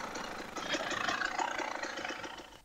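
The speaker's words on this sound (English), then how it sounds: "can't really let the two-stroke sing like I would like" A KTM 300 TPI two-stroke dirt bike engine runs steadily on a twisty trail, a buzzy, rattling drone held at an even level close by for a few seconds.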